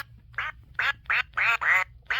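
A talking toy duck gives a rapid series of six loud, nasal electronic quacks, each short and evenly spaced, close up with near silence between them.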